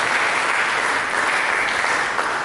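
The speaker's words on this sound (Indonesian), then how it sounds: "Mari kita berikan tepuk tangan bagi Yesus" A worship congregation claps for Jesus during an Indonesian church sermon, a thick, even wall of applause from many people, sustained and fairly loud without pause.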